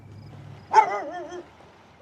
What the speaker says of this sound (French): Hé, petit chien!